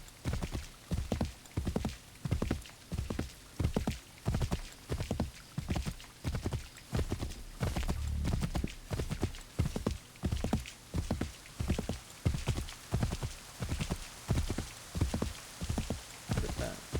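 Horse hooves clip-clopping in the video game Assassin's Creed III, a steady, even trotting rhythm of close, distinct thuds that runs throughout with no speech.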